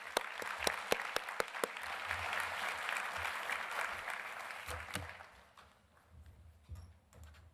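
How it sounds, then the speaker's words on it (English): Audience applause closing a development conference plenary, a broad wash of clapping with a few sharp close claps early on, gradually thinning and fading out toward the end. "let's just give them one more round of applause"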